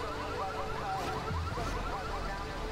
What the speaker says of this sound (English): Oh, the alarm's going off.